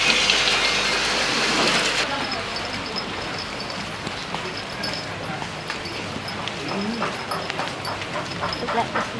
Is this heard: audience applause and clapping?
no